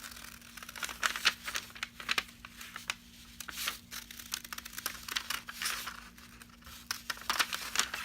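Scissors snip through fabric while cutting out a neckline facing, giving a close, steady run of crisp crinkling cuts and rustles with no talking.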